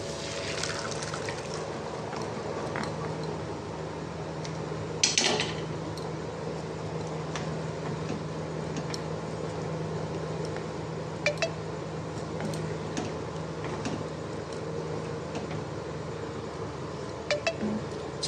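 Soaked, pressure-cooked chickpeas tipped into a pan of chicken masala, with a few sharp clinks of utensil on pan and a soft wet pour over a faint steady background hum.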